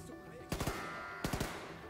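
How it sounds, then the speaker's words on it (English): Machine gun fire in the video game Wolfenstein 2: two short bursts of three rapid shots each, separated by a pause, heard over a steady game background hum. "It's not easy to aim a machine gun with one hand in a wheelchair."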